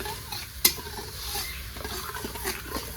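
Spice paste fries lightly in a pan for a Bengali eggplant and hilsa fish dish, a soft low sizzle with a sharp utensil clink early on and quiet stirring scrapes.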